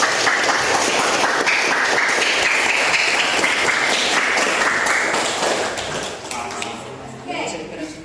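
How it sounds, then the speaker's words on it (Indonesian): Classroom applause for group 5 after a student presentation, a dense, loud burst of many hands clapping for about six seconds, thinning out toward the end with some voices underneath. "beri tepuk tangan untuk kelompok"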